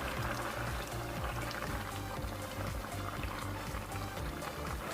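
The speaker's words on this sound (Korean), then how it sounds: "후 대파를 넣고 한 소끔 더 끓여줍니다." Korean gochujang stew with zucchini, onion and chopped green onion bubbling in a pot, a soft continuous simmer with faint popping bubbles, steady and close.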